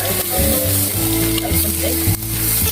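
Meat grilling for a birthday feast sizzles loudly and steadily at close range as it is flipped, with sharp crackles and a few brief knocks against the pan.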